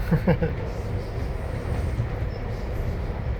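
Steady rumble inside a moving public transit train, a dense low roar with faint rattling and a brief voice near the start.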